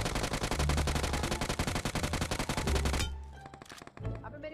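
Rapid automatic gunfire in the mobile battle royale game BGMI, a loud dense burst of shots for about three seconds, then scattered fainter shots and game sounds.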